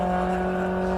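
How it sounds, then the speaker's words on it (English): A Volkswagen Polo race car with a K24 turbo engine runs a hillclimb course, a loud, steady, close engine note held under load with strong tonal harmonics. "the potential of this Polo with the K24 turbo engine being displayed"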